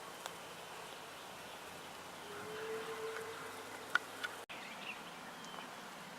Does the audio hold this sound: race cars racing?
no